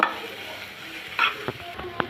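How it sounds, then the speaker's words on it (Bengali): Kalai greens frying in a pan give a soft sizzle under a few scraping stirs and clatters of a spatula, close and fairly quiet, with no talking. "আর এক মিনিট আমি একটু ভেজে নিব"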